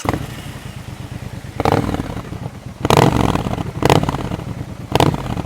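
Triumph Scrambler 1200X motorcycle on its stock exhaust, idling in neutral with a steady low rumble, then four sharp throttle blips that flare loudly and drop back to idle, close to the bike.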